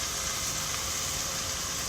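Butter melts in a pan over low heat for a roux, a soft steady hiss of gentle sizzling, quiet and even throughout.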